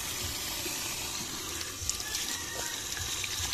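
Running water pours steadily, as from a tap, while freshly caught food is rinsed in a rural Philippine home kitchen before cooking; a close, continuous splashing gush with no talk.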